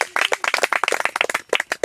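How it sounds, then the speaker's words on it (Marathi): A classroom of pupils clapping together: a short burst of quick, overlapping hand claps, close and lively, with no talk. "त्याच्यासाठी सगळ्यांना टाळ्या वाजवा एकदा"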